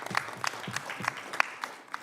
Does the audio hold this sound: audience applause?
yes